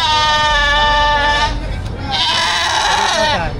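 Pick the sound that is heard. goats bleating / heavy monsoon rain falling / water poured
goats bleating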